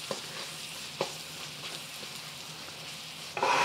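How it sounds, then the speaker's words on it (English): Onions fry with bacon in a pan in a soft, steady sizzle, broken by a few light spatula taps and a louder burst of sizzling near the end. "We want the onions to cook through."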